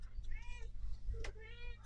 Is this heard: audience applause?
no